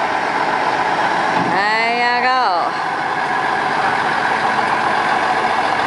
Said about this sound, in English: Oh, an old truck coming through here.